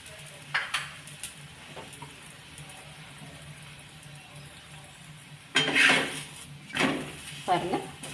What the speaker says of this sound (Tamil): அதுக்கு மேலே லைட்டாக எண்ணெய் விட்டுக்கலாம்.